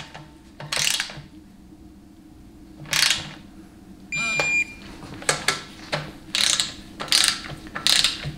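A ratchet wrench torques transmission pan bolts during final assembly of a 700R4 automatic transmission rebuild, with several short bursts of clicking at close range, separated by pauses and with no talk.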